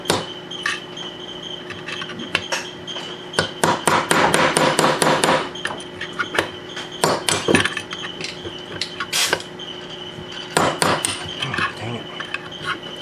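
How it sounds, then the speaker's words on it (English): A hammer drives a punch against a stuck guide bushing in a 1977 Volkswagen Bus transmission. Sharp metallic strikes come close and loud in irregular bursts, with dense rapid runs of blows and pauses between them. "Use this punch to get out the other guide bushing."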